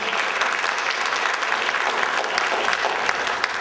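Audience at a high school assembly with Pastor Bryan breaks into steady, dense applause that fills the room from start to finish, loud and even with no voices rising above it.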